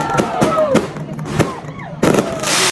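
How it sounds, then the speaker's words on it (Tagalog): Fireworks burst at a wedding celebration, several sharp booms and crackles in quick succession with a whistling rise between them, loud and close, with faint crowd murmur. "Grabe, ang ganda ng fireworks nila."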